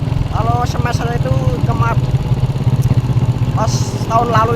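A motorcycle fitted with a loud Altan aftermarket exhaust rumbles close by with a steady, throbbing idle, while people talk over the engine throughout.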